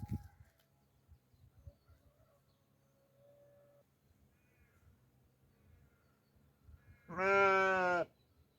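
A single loud sheep bleat near the end, sharp and close, following quiet rustling and a few faint, thin calls, in a Turkish village.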